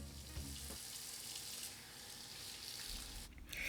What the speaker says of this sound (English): First, let's wash our hands.